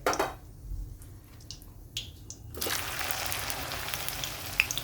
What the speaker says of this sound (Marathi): आता मी राहिलेल्या भेंड्या फ्राय करून घेते